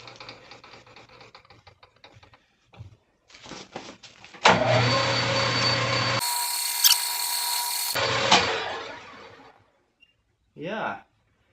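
A lathe cuts an inside chamfer bevel on a metal bung, giving a loud, sustained broadband cutting noise for several seconds, with quieter machine clatter before it and a brief burst after it ends.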